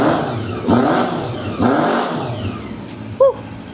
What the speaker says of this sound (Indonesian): Digeber juga enteng banget karena cc-nya cuma 250.